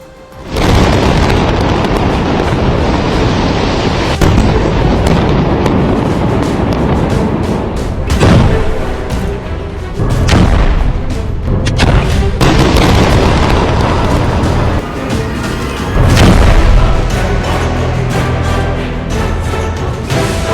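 Air strikes on Hezbollah positions in Lebanon produce a dense run of loud, heavy booming blasts and rumbles, with several sharp bursts over a continuous roar.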